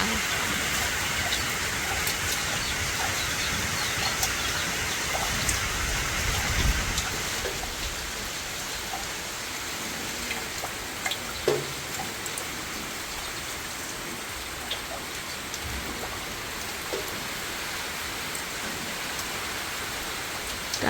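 Steady heavy rain hisses without pause over rice paddies, with occasional louder drops and splashes standing out nearby.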